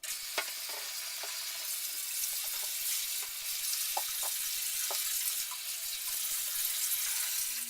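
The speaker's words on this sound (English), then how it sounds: "we're going to have to boom, rinse the stuff out so that our beer doesn't taste like bleach." Water runs steadily while bleach-based sterilizer is rinsed out of home brewing equipment, a continuous splashing hiss with small clinks and knocks throughout, close and moderately loud.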